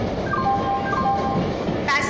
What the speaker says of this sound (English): Goods Express is arriving at platform number